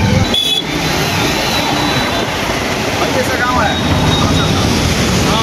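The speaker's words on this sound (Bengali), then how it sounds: "এখানে গেট খোলা আছে, জলে প্রচণ্ড স্পিডে জল নামছে" Water pours fast through an open sluice gate, a loud and steady roar of rushing water that fills the whole clip, heard close with no break.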